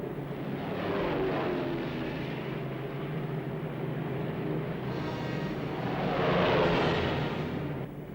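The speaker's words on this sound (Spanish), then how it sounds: "177 B-24 aceleran por la pista del desierto africano." B-24 bomber engines roar on a desert runway in North Africa, a dense, steady drone that swells twice as the aircraft accelerate, heard alone without talk.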